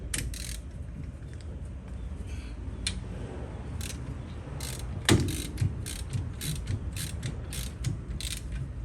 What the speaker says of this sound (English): So you're gonna crack the 13 mil on the brake line bracket here loose.